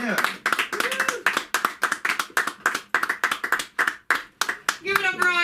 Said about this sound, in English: Clap for Sam.